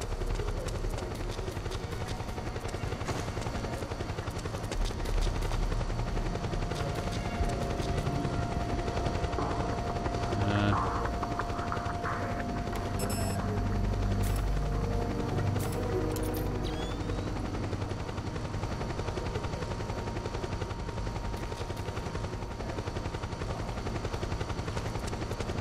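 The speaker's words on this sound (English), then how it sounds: "I hear a helicopter." Helicopter rotor drone with bursts of machine-gun fire in the Metal Gear Solid 4: Guns of the Patriots video game, a steady loud roar running throughout with scattered shots over it.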